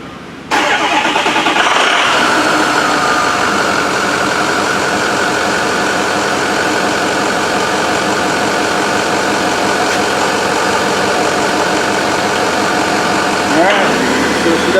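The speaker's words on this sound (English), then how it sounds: "we can start the engine" A 6.0 Powerstroke diesel engine cranks briefly, catches and settles into a steady, loud idle that runs on evenly with a slight change near the end.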